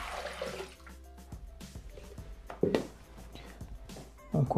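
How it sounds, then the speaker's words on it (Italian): Water is poured into a kitchen mixer's jug to start a lemon chicken recipe, giving a steady splashing gurgle with a few louder gushes and drips, heard up close. "versando all'interno del boccale l'acqua."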